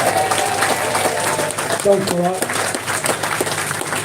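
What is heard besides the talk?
audience applause for the Blade Runner lads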